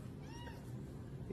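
A cat gives a short meow, close and fairly loud over steady low background noise, with no talk over it.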